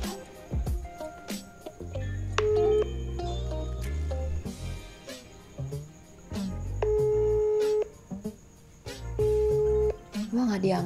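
Repeated ringback tones of an outgoing WhatsApp call, steady two-part rings with pauses, over background music and some faint talk.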